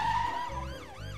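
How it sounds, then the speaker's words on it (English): A police car siren in a cartoon, heard as a short burst of wailing up-and-down sweeps following a sustained tone, loud and close with music underneath. "It's Police Officer Panda in his police car coming to see if everyone's okay."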